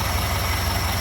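Engine of a 1930 Ford Model AA truck idling with the hood open, a close, steady low-pitched run with an even, rapid pulsing rhythm and no other sounds.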